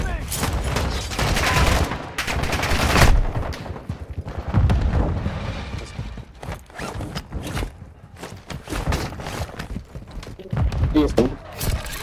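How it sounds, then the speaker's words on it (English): Gunfire in a Call of Duty DMZ match, with bursts of rapid automatic shots and scattered single cracks, loud and close, under players talking and shouting. "Taking effective fire."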